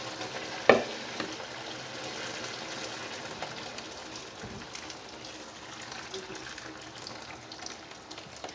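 Water from a kettle poured into a paella cooking in the pan, a steady hiss and bubbling sizzle running throughout at close range, with a brief sharp clink near the start.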